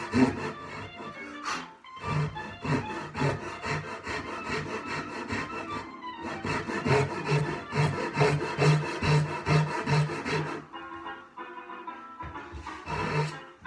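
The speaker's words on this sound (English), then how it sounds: "I'm going to go back to this saw here" A hand saw cuts down a marked line in wood with rhythmic back-and-forth strokes, close and fairly loud, broken by brief pauses between bursts of sawing.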